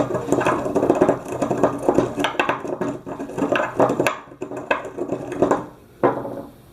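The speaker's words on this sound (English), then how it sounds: "I know I'm kind of shaking the table" A flimsy table set on carpet shakes and clatters in close, uneven bursts of knocking and rattling, with brief pauses between them.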